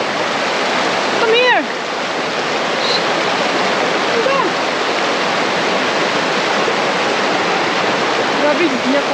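Rushing water from a stream in the Philippines runs as a steady broadband wash throughout, with brief speech in the background.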